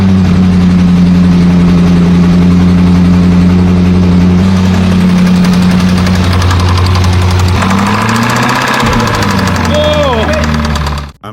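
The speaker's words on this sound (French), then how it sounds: "Un bruit de cliquetis et une pression inhabituelle persistent" A damaged Range Rover SVR engine runs loudly up close with an abnormal knocking, rattling clatter and a steady low drone, its pitch shifting partway through before cutting off at the end.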